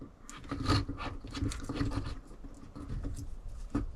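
A pencil scratches a line onto a wooden pen blank held against a tube, giving close, quick, rhythmic scraping strokes.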